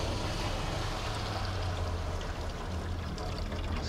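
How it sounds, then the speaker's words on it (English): Water sizzling in a hot pan set on a smoker firebox, a steady, loud hiss holding throughout with no pauses. "that thing had transferred so much heat that water just sizzled right up in that pan"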